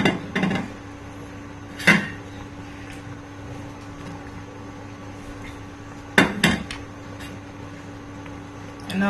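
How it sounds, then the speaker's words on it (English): A Nigerian uha soup thickened with ukpo is stirred in a pot, with a few clanks and scrapes of a utensil against the metal rim over a quiet background hum. "and I'll give it a stir."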